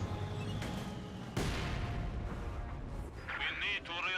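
Tank cannon fire in the WWII real-time strategy game Company of Heroes 2, aimed at a Panzer IV. A heavy boom bursts out near the middle over rumbling battle noise, under steady voice commentary.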